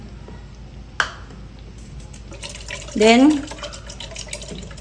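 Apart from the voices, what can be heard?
water poured into an empty can while cooking champorado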